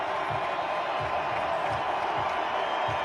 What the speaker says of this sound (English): Crowd trying to rev up.